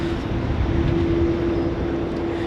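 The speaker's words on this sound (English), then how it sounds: "this is 737-800 next to arrive on 16 right" A Boeing 737-800 airliner arriving at Sydney Airport on runway 16 right gives a loud, steady jet roar with a constant droning hum, continuous throughout.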